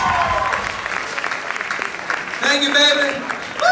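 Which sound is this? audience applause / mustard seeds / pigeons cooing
audience applause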